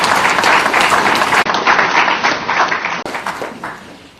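Audience applause at a talk or panel session, a dense steady burst of many hands clapping that continues for several seconds before gradually thinning out.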